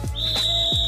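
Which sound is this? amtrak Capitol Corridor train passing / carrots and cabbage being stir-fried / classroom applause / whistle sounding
whistle sounding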